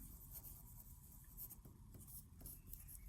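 Pen writing on paper while working out a math word problem, faint continuous scratching with short strokes and small pauses, close and quiet.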